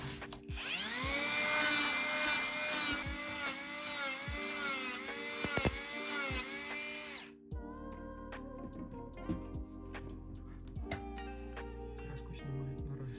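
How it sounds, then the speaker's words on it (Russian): A YIKODA cordless mini angle grinder with a flap disc grinding a piece of iron: a high, steady motor whine runs for about seven seconds, then gives way to quieter, rougher grinding and scraping, close up. "следующий на очереди у нас будет лепестковый диск. И также покромсаем эту железку."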